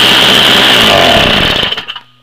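A Craftsman small petrol engine, started cold after sitting six months, roars loudly at high revs for about two seconds and then sputters down and cuts out, close by.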